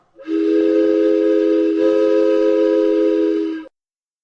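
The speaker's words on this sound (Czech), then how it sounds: "A teď vlak." A single loud, sustained train whistle sounds clearly for about three and a half seconds with a steady tone, then cuts off abruptly.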